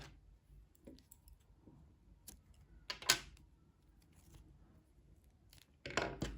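Scissors cutting yarn after a crocheted headband is finished: a couple of crisp, close snips stand out against a quiet room, one around the middle and another near the end.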